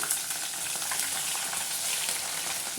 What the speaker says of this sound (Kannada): ಮೆಣಸಿನ್ಕಾಯಿನೂ ಕೂಡ ಎಣ್ಣೆಯಲ್ಲಿ ಚೆನ್ನಾಗಿ ಫ್ರೈ ಮಾಡ್ತಾಯಿದ್ದಾರೆ